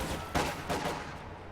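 Gunfire from a WWII strategy video game, heard as two sharp bursts close together followed by a fading rumble, moderately loud with no talking.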